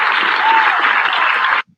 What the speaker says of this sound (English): Thanks for that round of applause.